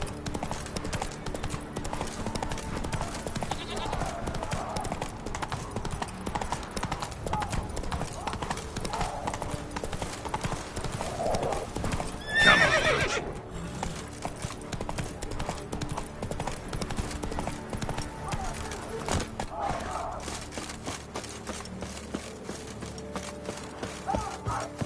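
Geralt's horse in The Witcher gallops in a continuous, rapid rhythm of hooves across the whole stretch, with a louder burst midway and game music and voices in the background.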